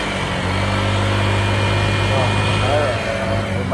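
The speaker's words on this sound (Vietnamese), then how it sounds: "Bây giờ mình nổ máy hết là 1 phút rồi đó." A Honda Vario scooter engine idles steadily right after an oil change, a close, continuous buzzing drone with a constant low hum and slight fluctuations.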